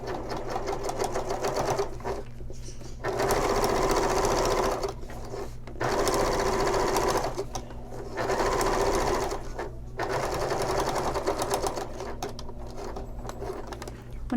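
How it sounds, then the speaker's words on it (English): Sewing machine top stitching across a vinyl shoulder bag, several runs of fast steady mechanical stitching separated by short pauses, close and clear, with brief quiet talking in the gaps. "now I will top stitch across the top"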